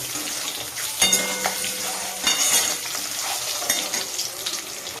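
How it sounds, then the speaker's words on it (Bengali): Eggs fry in a pan with a steady crackling sizzle, punctuated by a few sharp scraping and stirring clatters of a utensil against the pan, close and continuous with no talking. "ডিমগুলো ভাজা হয়ে গেছে, এবার ডিমগুলোকে আমি নামিয়ে নেব"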